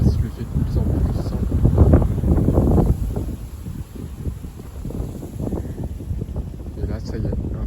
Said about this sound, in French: Et là, ça y est, un petit coup de vent, très classique. Dans les 75 km/h.